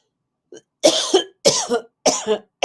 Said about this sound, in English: I don't want to go into a coughing fit now.